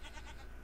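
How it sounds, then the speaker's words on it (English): A goat bleats in Minecraft, one short bleat close up with nothing else around it. "We got a goat. Hello, goat."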